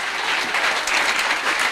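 Applause for a former school prefect at a gathering of 1993 old students of Christian M/A JHS: dense, steady clapping from a crowd, close and continuous with no talk over it.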